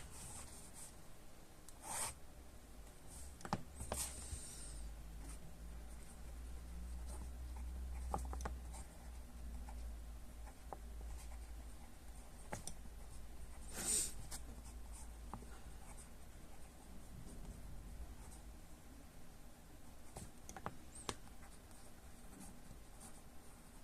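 A Jinhao 10 fountain pen nib writing on paper, a steady soft scratching and rubbing with brief strokes and pauses, close and quiet with no talk.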